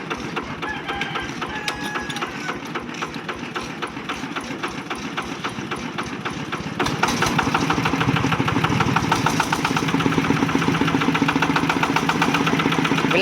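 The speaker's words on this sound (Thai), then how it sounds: "เดี๋ยวมาฟังเสียงเซตทีนะครับ ร้อยแปดสิบ" A Kubota ZT180 mower engine runs steadily nearby with a fast, even mechanical chatter, growing louder and rougher about halfway through as the revs rise.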